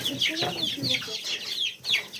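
Chicks and young roosters in a barn after being moved there, clucking and chirping in repeated close bursts, loud and near throughout.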